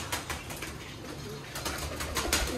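A captive pigeon held close, with soft cooing and brief bursts of wing flapping against steady background noise.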